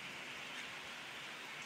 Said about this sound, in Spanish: hoy empieza a llover otra vez nuevamente, un poquito de agua